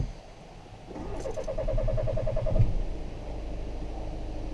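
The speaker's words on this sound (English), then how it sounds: "Take the key and start the engine." A VW Sharan 2.0 TDI diesel engine, just after a fuel filter change, cranks with a rapid rhythmic chug for about two seconds, catches, and settles into a steady low idle rumble, close and alone without talk.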